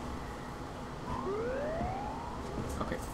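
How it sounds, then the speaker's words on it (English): A wailing siren rises in pitch during a horror game set at the Chum Bucket at 6 AM, heard at moderate distance over a dense, steady ambient drone. "Okay, that's a siren."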